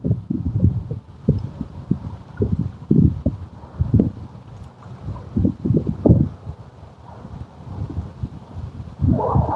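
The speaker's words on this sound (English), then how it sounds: "Yes, it is definitely cold and windy." Gusty cold wind buffets the microphone outdoors at a fishing spot, low rumbling bursts rising and falling in uneven waves, close and fairly loud.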